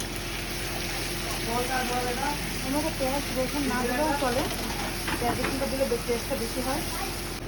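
Onions go into a hot pan while greens with hilsa fish heads are being cooked, giving a steady, close frying hiss that runs the whole time beneath people talking.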